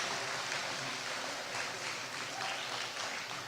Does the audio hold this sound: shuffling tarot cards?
no